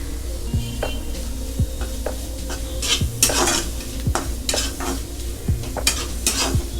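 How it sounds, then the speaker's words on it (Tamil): Crushed ginger-garlic paste sautéing with onions in a pan for green hariyali chicken curry, a constant sizzle under repeated scraping and clanking of a metal spoon stirring against the pan, close and busy; no one speaks. "இப்போ இந்த இஞ்சி பூண்டு வந்து பச்சை வாசனை போகிற வரைக்கும் வதக்கலாம்"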